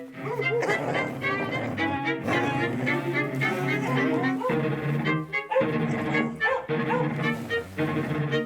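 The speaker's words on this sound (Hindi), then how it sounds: "अपने डॉग्स भी वही देख करके भौंक रहे हैं।" Several dogs bark and yelp outdoors in a horror film scene, loud and layered over a dense musical score, with voices talking in places.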